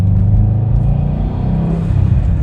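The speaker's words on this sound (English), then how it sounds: "The unequal length headers and the exhaust burble to me always made it sound like the engine was struggling" A 2019 Subaru Impreza WRX STI with unequal length headers idles up close, its exhaust giving a loud, lumpy, uneven low burble that rumbles steadily throughout.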